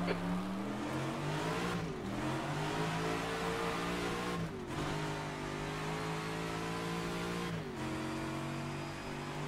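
A V8 racing car engine in the video game rFactor 2 roars continuously, revving up through the gears with brief dips at each shift, loud and close, no talking.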